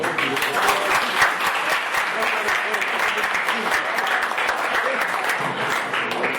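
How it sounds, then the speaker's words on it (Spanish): Steady, dense applause from an audience at a literary circle gathering after a poetry reading with guitar, loud and continuous throughout with a murmur of voices mixed in. "vamos a darle un aplauso más fuerte"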